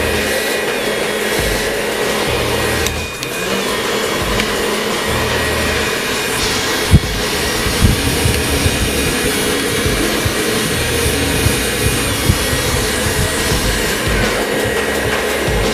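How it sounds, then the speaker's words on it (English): A hair dryer blows steadily, close and loud, as warm air is pushed through hair for styling, a continuous roaring whoosh with a few small bumps and no talking. "use the airflow to push hair where we want it to go"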